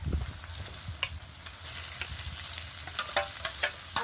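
Mashed boiled potato is stirred and fried with chili and ginger for a samosa filling, giving a steady close sizzle broken by a few sharp spatula scrapes and clicks against the pan.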